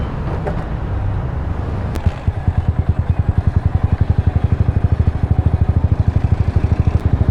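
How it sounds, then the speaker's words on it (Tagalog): A Suzuki Raider motorcycle engine runs loudly at idle, a fast, even, rumbling putter that starts after a short clack and continues steadily up close. "Hindi ako sanay na maingay yung Raider ko."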